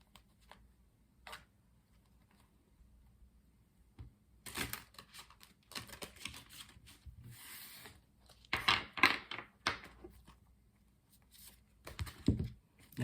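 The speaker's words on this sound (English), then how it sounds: "let's do one shuffle" Tarot cards being shuffled in quick riffling bursts, close and crisp, separated by quiet pauses with a few soft taps.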